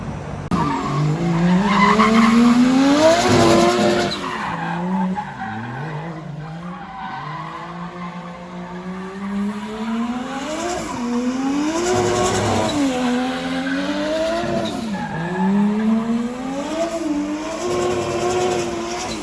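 A drift car runs laps on a Formula Drift Philippines track, its tires squealing steadily while the engine revs rise and fall in repeated sweeping waves, loud and continuous throughout.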